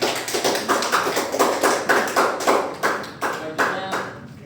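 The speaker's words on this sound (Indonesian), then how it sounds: "Tolong aplaus." A small group in a micro-teaching university classroom claps in a brisk, uneven patter of sharp hand claps, fairly close and lasting several seconds before tapering off.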